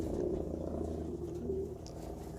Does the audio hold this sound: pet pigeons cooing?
yes